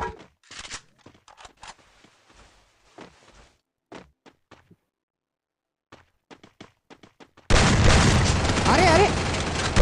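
Scattered sharp shots and thuds in a battle royale video game, spaced clicks and bangs through quiet stretches, then a sudden loud sustained burst of gunfire filling the last two seconds; a voice talks early on.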